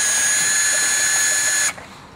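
Power screwdriver removing the Phillips screws that hold the air box on a Vespa S 150 scooter, a steady high motor whine heard close and loud before it stops abruptly.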